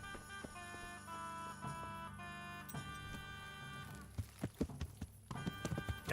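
Horse hooves clip-clopping in Kingdom Come: Deliverance, starting faint beneath music and growing into a series of distinct, fairly close irregular hoofbeats toward the end.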